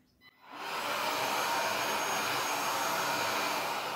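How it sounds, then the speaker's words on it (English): Oraimo Ultra Cleaner S cordless vacuum cleaner switches on after a brief quiet moment, then runs with a loud, steady high-pitched whirring hiss that holds constant, with no voices. "You can just simply attach it and then you start vacuuming."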